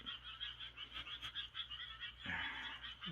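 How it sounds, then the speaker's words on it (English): Frogs croak outdoors at night in a rapid, pulsing chorus of repeated calls, moderately near and steady, with a louder burst of croaking near the end. "Yeah, the frogs."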